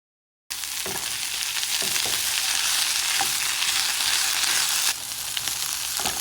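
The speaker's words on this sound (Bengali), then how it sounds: "এবার আমি চিংড়িগুলো দিয়ে দিব।" Prawns hit hot oil in a pan after a brief silence, and a loud, sustained sizzle and crackle follows close up, with occasional spatters and stirring clicks.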